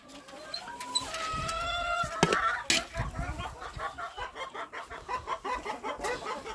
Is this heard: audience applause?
no